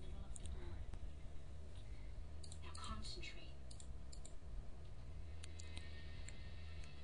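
Computer mouse clicking while adding a torrent in BitTorrent, heard as a few faint, scattered clicks over a steady low background hum.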